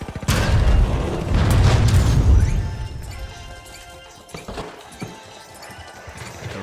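A frag grenade explosion in a first-person shooter game bursts loudly with heavy crashing booms and debris clatter, then fades into quieter rattles and a few sharp knocks.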